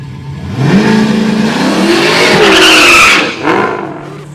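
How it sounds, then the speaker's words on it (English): Supercharged Dodge Hellcats with modern street Hemi engines launch down Milan Dragway, their loud, close engines roaring and revving upward for several seconds with tire squeal before easing off. "Beautiful blue Hellcat in the right lane. We got a drag race marching to the top end."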